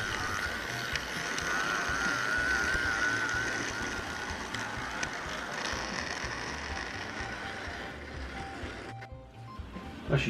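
OO gauge model steam locomotive fitted with an Anchorage D11 motor, running smoothly with a continuous close mechanical whir and gear rattle that thins out near the end.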